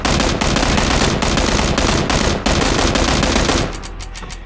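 Rapid bursts of automatic gunfire in the video game PUBG, loud and continuous with short gaps, then thinning out into a few fading shots at the end.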